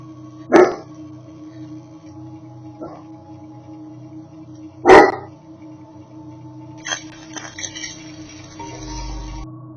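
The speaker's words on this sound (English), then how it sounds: "Just after her dog began barking" Two sharp, isolated dog barks a few seconds apart over a quiet background hum, followed by faint scraping noises.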